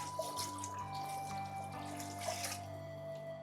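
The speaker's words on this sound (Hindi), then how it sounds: "2 लीटर में पानी रख रही हूँ उसके अंदर।" About two liters of water poured into a biryani pot of chicken cooking, a steady running, splashing stream with faint droplet sounds and a low background hum.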